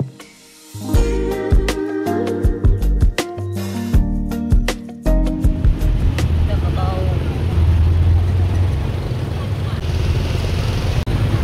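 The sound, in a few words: road traffic during New Year in Laos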